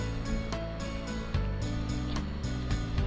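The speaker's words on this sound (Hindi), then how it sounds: "और फिर यहाँ पर इस तरह से मोड़ के ऊपर सिलाई कर देंगे।" A sewing machine stitches over a fold of old denim jeans, a close, rapid mechanical rattle of the needle that runs steadily, with brief changes in pace.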